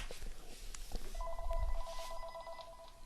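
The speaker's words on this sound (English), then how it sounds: "Let me see, my phone is ringing." A phone rings with steady electronic tones that start about a second in and carry on to the end, fairly clear over a low room hum.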